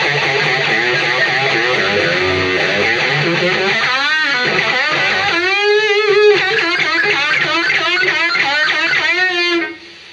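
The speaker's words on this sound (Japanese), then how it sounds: "ベンドチョーク、ベンドコーラス、" Electric guitar played through a Zoom G3 multi-effects unit with a bend chorus effect, notes swooping and wavering in pitch, loud and close, with the sound cutting off at the end.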